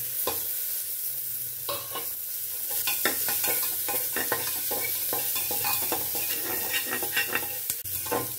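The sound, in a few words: chopped onion stirred and frying with garlic in pan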